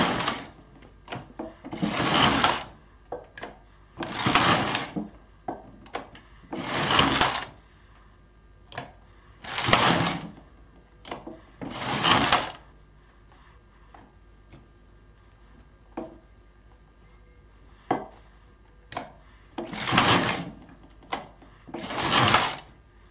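Knitting machine working cotton-acrylic yarn for a summer dress, with repeated loud whooshing carriage passes, each a second or so long, separated by quieter clicks and ticks of the needles.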